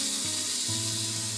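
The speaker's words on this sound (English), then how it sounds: "we're going to put it in a hot pan" Bacon frying in a hot pan, a steady close sizzle with low hum throughout, no talking.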